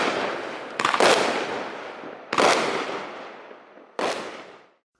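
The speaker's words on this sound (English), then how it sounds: "Palm. This is like a chrysanthemum, but with a tail that leads up to the explosion and more spread out lights and trails." Palm firework bursts going off outdoors, three loud booming explosions spaced a second or two apart, each trailing a crackling decay before silence.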